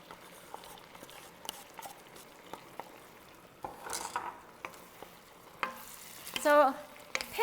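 Chow mein noodles and vegetables stir-fry with sauce in a hot pan, a soft sizzle under repeated scraping and stirring clicks, ending in a louder burst of sizzling and utensil clatter.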